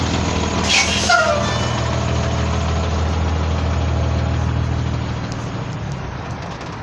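A 2001 Blue Bird All American school bus idles with a steady low engine rumble, and a single sharp hiss of its air brakes releasing comes early. A voice is faintly present under the engine noise.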